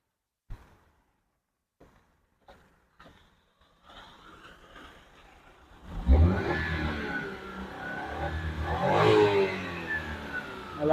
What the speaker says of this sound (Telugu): ఇంజన్ కూడా చాలా సైలెంట్గా ఉంది.